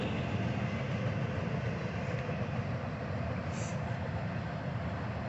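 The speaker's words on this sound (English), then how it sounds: "Train is moving on." A train rolling along tracks beside a park, a steady broad rumble and rail noise held at a constant level throughout, fairly distant and without talk.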